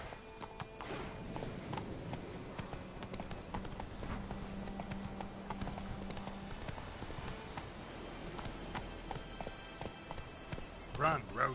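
Roach, a horse in a video game, gallops with rapid, rhythmic hoofbeats close by, plus a brief whinny near the end, while a man urges the horse on.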